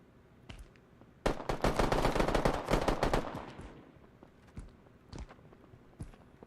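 Gunfire in the shooter Midnight Society: a sharp sustained burst of automatic fire lasting about two seconds, followed by scattered single shots and footsteps, fairly near and loud with no speech.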